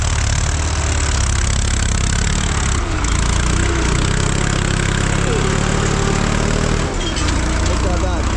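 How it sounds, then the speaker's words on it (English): A tractor engine runs close by with a steady, loud mechanical drone throughout, dominating the scene outdoors. "Yes, I'm waiting on the guy with the tractor coming here."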